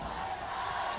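A dense, steady roar from a crowd of high school students spilling onto the court at a UAAP juniors basketball final, a continuous wash of cheering voices with no distinct words.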